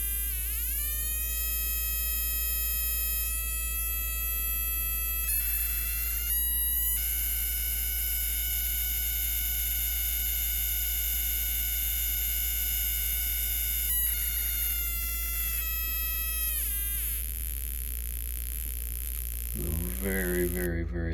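Spark plug tester firing an iridium plug against a standard plug, a steady electric buzz with high whining tones that shift in pitch and drop out briefly, continuous throughout, with a short burst of other noise near the end.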